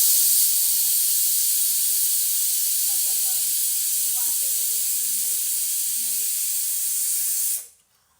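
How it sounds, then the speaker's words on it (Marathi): Steady, loud hiss of steam rushing from a pressure cooker whistle while cooking khichdi, with faint voices underneath, cutting off abruptly near the end. "एक शिट्टी झाली आता ही दुसरी शिट्टी होणार"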